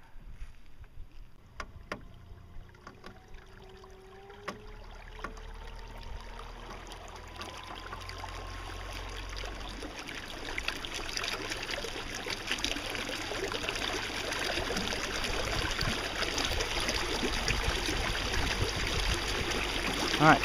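A Torqeedo electric outboard motor at full throttle pushes a sailboat through calm water in light winds, giving a steady hum with water rushing and swishing along the hull that grows louder over time.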